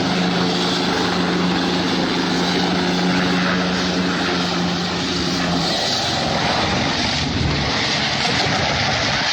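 Helicopter engine and rotor drone during an emergency landing that goes wrong, a loud, continuous roar holding steady throughout, with a low whine that drops out partway through as the aircraft comes down into a field.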